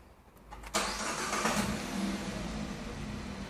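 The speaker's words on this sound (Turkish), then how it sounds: "Çalıştırın arabayı." A Hyundai Tucson engine cranks briefly and catches loudly, then settles into a steady idle.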